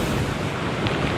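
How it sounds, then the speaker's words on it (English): Tropical storm wind gusts during Hurricane Ian's landfall at St. Petersburg, a loud constant roar buffeting the microphone with rushing, surf-like noise and no speech. "We're seeing sustained tropical storm winds all the time"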